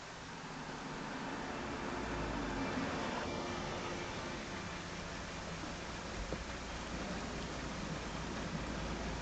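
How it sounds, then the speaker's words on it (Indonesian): Heavy rain pours down in a dense, even hiss that fills the whole stretch without a break, loud and steady, with no voices over it. "Tunggu, hujan terlalu deras."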